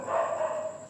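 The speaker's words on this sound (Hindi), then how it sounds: "कुत्ते बहुत भौंक रहे हैं यहाँ पर" Dogs bark outdoors beyond a room where a lesson is being taught; a single sustained bark or howl comes through at moderate level with a steady high-pitched hum behind it.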